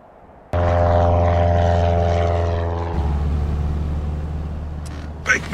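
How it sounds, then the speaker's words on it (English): A propeller airplane in the LEGO Jurassic World video game flies close and loud with a steady droning engine tone, the pitch shifting partway through as it continues on, ending with a couple of short mechanical clicks. "Unidentified aircraft approaching Isla Sorna."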